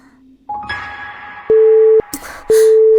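Repeated busy-signal tones from a phone call that fails to connect, a steady beep pattern with short gaps, coming after a rising electronic tone and some rustling.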